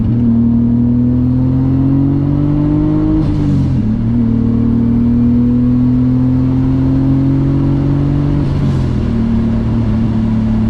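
Turbocharged BMW E34 with an M50 engine pulls hard under boost, its loud close drone climbing steadily in pitch, dropping at a gear shift, then rising again before a second shift.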